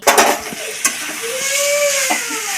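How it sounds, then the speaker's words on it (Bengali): Boiled taro stolons dropped and stirred into frying spice paste give a close sizzle with quick clattering spoon strikes at the start, then a long whistling tone over the steady hiss. "মশলাটা ভালো করে কষানো হয়ে গেছে এখন দিয়ে দিচ্ছে সেদ্ধ করা লতি"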